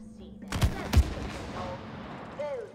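Gunfire in the co-op video game It Takes Two: two sharp, loud shots about half a second apart over a low game hum, followed by fainter fizzing and whooshing effects.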